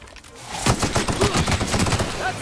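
Rapid rifle fire in The Outer Worlds video game, a quick string of sharp shots fired close and loud in an uneven automatic rhythm after a brief quiet start.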